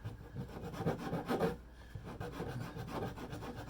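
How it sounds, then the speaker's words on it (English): A gasket for a Roberts #83 brass element base is beveled by hand along one edge, giving close, steady rasping strokes in a continuous rubbing rhythm, with no voice. "I'm going to just take off on this edge that goes in. I'm going to just bevel it just a hair"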